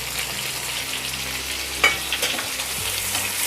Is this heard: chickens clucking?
no